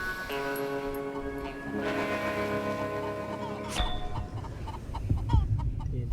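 Chickens clucking in the Western shooter game Call of Juarez Gunslinger, a cluster of hens heard fairly close over a droning background, with a sharp click and scattered clucks in the second half.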